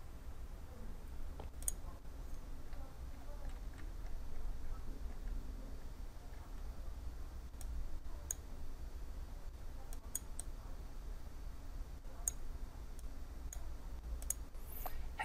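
Computer mouse clicks sound while working in Autodesk Inventor CAD software, a scattering of faint, sharp clicks at irregular intervals over a low steady room hum, with no talking.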